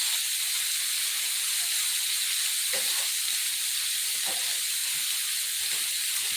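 Argentine shrimp sizzle while cooking in a pan, a loud continuous frying hiss with faint occasional clinks, close and steady throughout.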